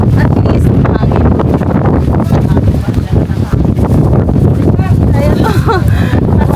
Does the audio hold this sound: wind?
yes